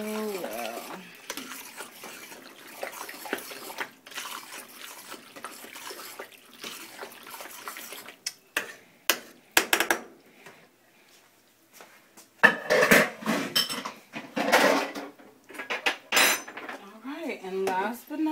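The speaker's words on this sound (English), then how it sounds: "Mix it in real well." Mac and cheese sauce stirred in a pot, with scattered clinks and scrapes of a utensil against metal and wet sloshing that grow louder and busier toward the end.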